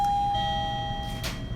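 A house doorbell rings once with a clear, sustained chime that rings out and fades over a low background hum, close and distinct, with no talking.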